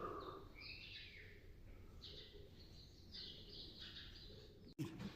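An owl calling at night from inside an attic: a series of short, hooting and whistling calls repeats at moderate distance, faint over a steady background hiss, ending with a sudden knock.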